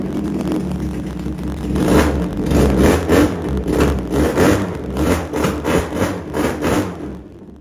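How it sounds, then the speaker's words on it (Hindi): A Yamaha R1M replica motorcycle with a 400cc EFI engine and SC exhaust revs hard, a loud, close series of throttle blips rising and falling in a steady pulsing rhythm before dropping back. "बड़ा दबंग साउंड है इसका। 400cc है, EFI है, ऊपर से SC स्पेशल के एग्जॉस्ट लगा हुआ है, बड़ा ही धुआंधार साउंड है।"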